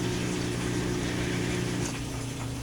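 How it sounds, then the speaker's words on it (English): A washing machine and dryer run together in a home workshop in Florida, making a loud, steady mechanical drone with a low pulsing hum that fills the whole stretch. "I have to share my workshop with the washing machine and dryer, so they're running now."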